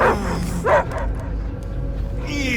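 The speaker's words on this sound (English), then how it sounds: "I hear only barking." The space dog Cosmo barks and yips in Marvel's Guardians of the Galaxy video game, a few loud close barks early on, then a low drone and faint ticks while voices talk in the background.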